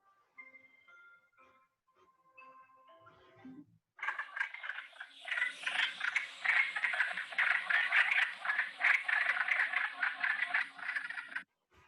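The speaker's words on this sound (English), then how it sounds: "Wood frog." Wood frogs call in a dense chorus of raspy, clucking rattles that start abruptly after a few seconds of faint tonal sounds, then keep going in overlapping bursts until the end.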